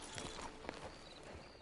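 Horse hooves clip-clop in Red Dead Redemption 2, a few soft, faint steps at an easy walking pace against quiet background ambience.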